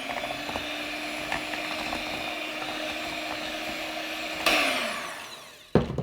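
An electric hand mixer fitted with a single beater whirs steadily through a sugar scrub made with tallow, a constant motorized drone that jumps louder briefly near the end before cutting off with a short final burst.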